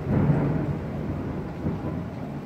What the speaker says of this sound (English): Like a big thunder and lightning hasn't stopped yet.